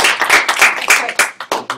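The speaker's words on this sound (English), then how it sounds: "Big applause for" A small group claps in a class, a loose patter of individual hands that thins into a few separate sharp claps near the end, close and fairly loud.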